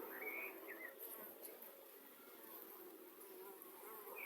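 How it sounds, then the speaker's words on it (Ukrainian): Faint, high buzzing of Buckfast honey bees drifting in and out against quiet outdoor background, with a couple of brief chirps. "Ну ті бджоли, що тут."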